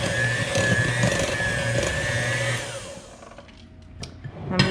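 A handheld electric mixer whirs loudly and steadily through cookie dough for thumbprint cookies, a continuous motor drone that slows and drops away near the end, leaving a few soft knocks.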